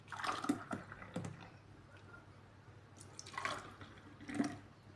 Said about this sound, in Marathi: ग्लासामध्ये घेणार आहोत ओतून